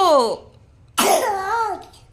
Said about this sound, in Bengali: খুব কাশি হচ্ছে তো